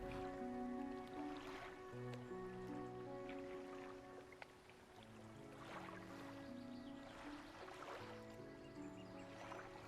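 Steady ambient water in the fishing game Dredge, a constant lapping and rushing wash layered over low droning music, with soft splashy accents throughout.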